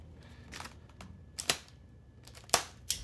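Packing tape pulled off the box of an MSI MAG 271QPX QD-OLED 27-inch gaming monitor, heard as a few sharp, close snaps and crackles separated by quiet gaps, with no voice.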